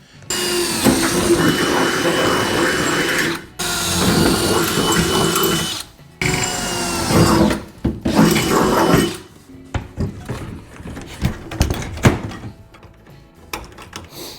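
Drilling and riveting hinges onto the deck of a jon boat converted to a bass boat: loud bursts of drill whine in long stretches, then sharp irregular clicks and knocks of riveting, with no talking.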